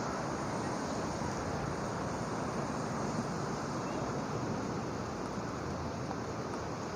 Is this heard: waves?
yes